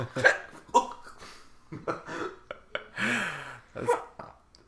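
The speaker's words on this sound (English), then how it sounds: "That was a burp hiccup" Several short, abrupt throaty bursts, hiccup-like with a burp quality, come close by in an irregular sequence with brief gaps between them.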